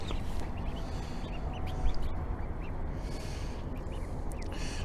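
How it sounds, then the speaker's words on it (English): Ducklings in a brooder lined with fresh pine shavings quack and peep constantly in a dense, close chorus, with busy overlapping calls and a continuous rustle throughout. "So here are the ducks."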